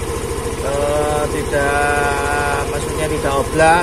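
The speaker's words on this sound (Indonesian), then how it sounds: "ini kita tes hidupkan mesin" A motorcycle engine idles with a rapid, even putter after starting while the radiator fan spins, and someone talks over the steady running.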